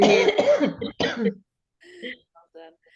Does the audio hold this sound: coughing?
yes